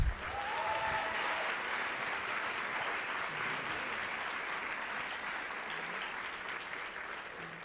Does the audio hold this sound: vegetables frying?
no